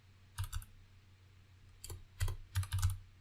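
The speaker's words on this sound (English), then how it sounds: "If I can type" Short bursts of typing on a computer keyboard, close and fairly quiet, with small clusters of key clicks separated by brief pauses.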